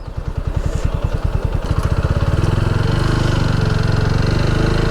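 A motorcycle engine runs close by near Tajhat Zamindar Bari in Rangpur, its loud chugging pulses quickening into a steady, fast throb as if revved before parking, with no talk.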